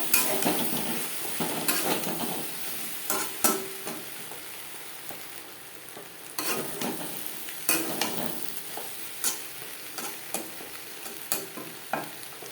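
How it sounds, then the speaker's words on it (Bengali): A spatula scrapes and stirs potatoes and okra (bhindi) in a pan for a vegetarian curry, giving uneven clicks and scrapes over a soft, steady frying sizzle with no talking. "আলুর সাথে ভেন্ডি বেশ ভালো করে মিক্সড করে দেবো"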